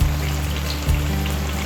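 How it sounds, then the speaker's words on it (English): Water pours steadily into a hake fish stew, a brief continuous splashing trickle heard up close with no talking. "So this time I'm just going to add water."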